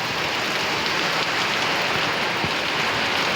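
Steady rainfall hisses without pause, drops drumming on a nearby surface in a thick, even wash of sound.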